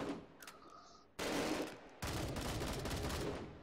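Bursts of gunfire in the VR shooter Hot Dogs, Horseshoes & Hand Grenades: a short sharp crack is followed by two sudden loud sustained volleys of rapid fire, fairly close, with no talking.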